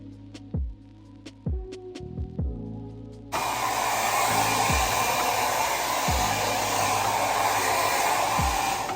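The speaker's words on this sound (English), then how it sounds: "blow dry my hair" A hair dryer switches on after a few scattered knocks and handling sounds, then roars steadily and loudly close by while someone blow-dries their hair, with a faint low throbbing running underneath.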